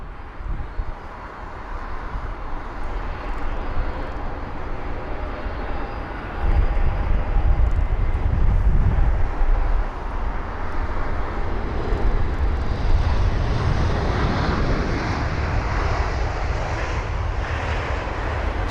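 An aircraft engine at London Heathrow, a loud, continuous jet roar and rumble that swells partway through and stays close, with no talk.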